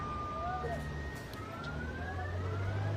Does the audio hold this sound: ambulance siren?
yes